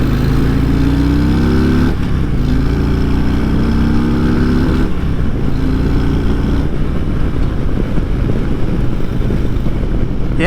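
Harley-Davidson Road Glide Special motorcycle engine lugging at low revs while riding, a steady loud rumble with rising pitch sweeps as it pulls through gears, under heavy wind noise throughout.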